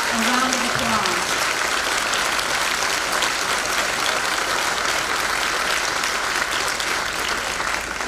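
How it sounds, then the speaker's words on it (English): A large crowd at a House Republican event in Pennsylvania applauds law enforcement officers, sustained dense clapping that holds evenly for several seconds without pause. "Let's give all of our law enforcement officers a round of applause."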